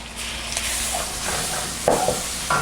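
Gochujang and garlic being stir-fried in a pan for braised potatoes, giving a steady low sizzle with faint scraping stirs and a couple of louder spatula clacks near the end, no talking.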